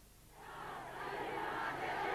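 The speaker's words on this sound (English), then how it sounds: "In neighboring Iran, crowds joined the call of the Afghan resistance for a jihad, or holy war, against the godless communists." A large crowd in Iran chants a call for jihad, a distant, swelling roar of massed voices that builds in volume.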